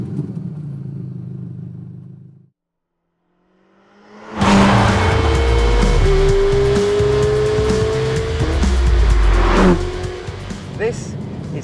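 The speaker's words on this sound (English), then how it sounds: "This is the Ferrari Roma, a front-engine, rear-wheel drive V8" A Ferrari Roma, a front-engine rear-wheel-drive V8, starts up after a brief quiet and drives loudly close by, its engine revving and rising in pitch, with a voice speaking briefly over it.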